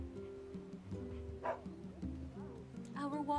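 Dog barking in the video game NieR: Replicant, short yips and bow-wows mixed into game music and effects, moderately loud throughout.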